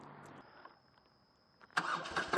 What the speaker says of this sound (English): That's the BMW Motorrad R18, a rock and roll, the shake.